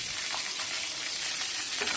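Dried and green chilies with curry leaves frying in hot oil as a tempering for rasam, a loud, steady, close crackling sizzle throughout.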